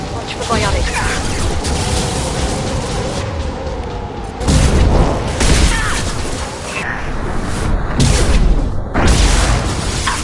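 Flashbang grenades going off in a shooter video game, several sharp loud bursts spread over the stretch amid ongoing combat noise and voices talking.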